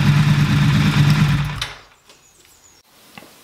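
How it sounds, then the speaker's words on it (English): A Triumph Scrambler 1200 motorcycle engine idles loudly and close up with a steady rumbling hum, then shuts off after about a second and a half, leaving near silence with a few faint clicks. "I'm gonna start the engine, check for leaks"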